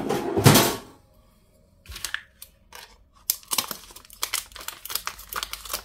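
Scissors cut paint-by-numbers labels with a rapid series of close crisp snips and paper crinkles, preceded by a louder rustle and handling.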